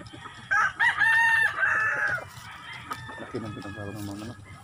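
Backyard chickens and roosters on a Filipino poultry farm, one rooster crowing loudly and close, followed by a second crow and clucking, with faint background noise.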